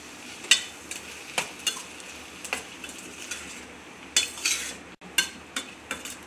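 Chopped brinjal gets stirred in a frying pan for a Tamil sabji, a spatula knocking and scraping the metal in repeated close strokes over a faint background sizzle.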